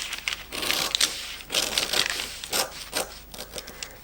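Scissors cutting fabric along a pattern line for a McCall's 7842 garment: close, crisp snipping and rustling in short repeated bursts, with no talk.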